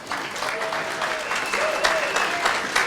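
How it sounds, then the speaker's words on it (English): An awards banquet audience at a high school sports hall of fame event applauds with steady, full clapping, and a few voices rise briefly above the crowd. "He deserves some applause."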